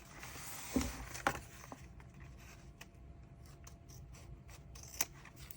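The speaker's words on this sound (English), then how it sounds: "I found these little scissors work really well for getting close to the edge right here." A few quiet, sharp snips of small scissors cutting paper for a Dutch door spread in a creative journal, spaced irregularly against a faint, hushed background.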